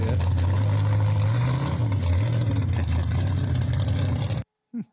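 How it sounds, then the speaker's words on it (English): A car engine under a hard stab of the throttle, close and loud, its roar rising and wavering in pitch for several seconds before cutting off abruptly, followed by a brief noise. "Oh, he hammered the throttle."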